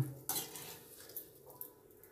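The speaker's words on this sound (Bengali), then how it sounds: "দেখুন কারি পাতাটা নেড়ে চেড়ে ভেজে তুলে নেব।" Curry leaves being stirred and lifted out of hot frying oil for a vegetarian dish, with a sharp utensil clink against the pan near the start and soft scraping and faint sizzling after it.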